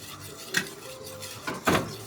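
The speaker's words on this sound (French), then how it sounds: "Vas-y, mélange." An egg is stirred into a sauce, heard as a few clinks and scrapes of a utensil against the dish over a quiet background.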